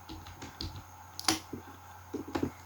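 Computer keyboard keys pressed while entering CLI commands for a network router interface, a sparse run of soft clicks with one sharper keystroke, close and quiet.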